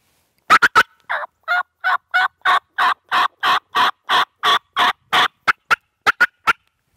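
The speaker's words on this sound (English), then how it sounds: "if he continues to gobble, I'm gonna keep pounding him with it" A wild turkey gobbles in a rapid run of about twenty sharp, rattling bursts, loud and close, alone without talk.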